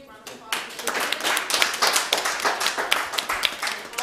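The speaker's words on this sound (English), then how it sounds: "let's do a big round of applause" Audience clapping at a university pitch competition final, a burst of applause starting abruptly after a brief pause and continuing as even, moderately loud clapping with distinct individual hand claps standing out.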